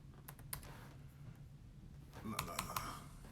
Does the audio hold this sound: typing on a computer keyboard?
yes